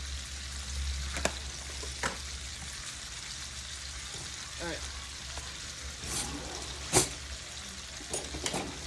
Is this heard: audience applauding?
no